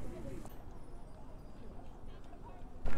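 Donkey hooves clip-clopping in a cold barn at a Christmas by candlelight village event, the steps soft and steady beneath a person talking nearby, ending in a louder burst.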